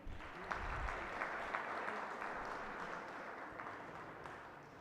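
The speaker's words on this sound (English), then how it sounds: "A loud applause for them, please." An audience at a motivational speaking event applauds steadily and fairly loud, with dense sustained clapping throughout and no speech.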